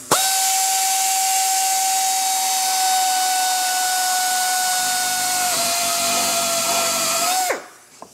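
A power drill bores mounting holes in a motorcycle fender for a Victory Cross Country, giving a loud, steady, high whining tone that holds for about seven seconds and then winds down abruptly, close up and with no talking.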